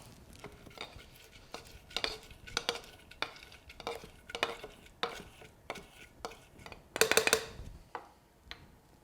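Raspberries and mint leaves crushed with a muddler in a cocktail shaker for a Raspberry Bourbon Smash: a close run of irregular thumps and scrapes, growing busier and louder toward the end, with no talking.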